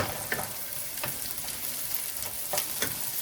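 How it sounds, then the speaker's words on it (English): Onions and minced garlic sizzle in a pan while being stirred, a constant fry broken by several sharp scraping strokes of the spoon at irregular intervals. "So I have 2 cloves of garlic minced, so we're going to add that in. Going to give this a stir."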